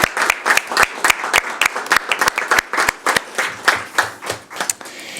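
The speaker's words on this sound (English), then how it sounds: "let's give us a round of applause" A small group at a city council meeting claps, the individual hand claps distinct and sharp in an irregular, fairly close patter rather than a dense roar.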